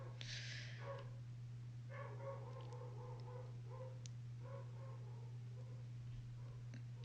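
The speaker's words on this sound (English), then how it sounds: "These fucking dogs next door are barking like there's no tomorrow." Neighbouring dogs bark repeatedly from next door, muffled and fairly distant, with a run of barks at the start and more bursts scattered over a steady low electrical hum.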